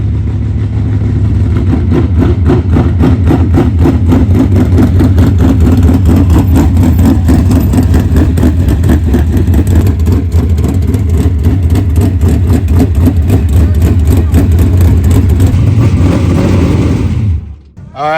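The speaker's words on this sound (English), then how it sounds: "So once the car was on the ground, it fired up" A car engine, just lowered to the ground and firing up on its second attempt, idles close by with a steady, loud low rumble and regular pulsing throb, cutting off abruptly near the end.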